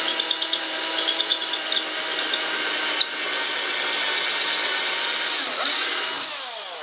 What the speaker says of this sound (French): vous prenez votre perceuse, et juste dans l'angle, ben vous percez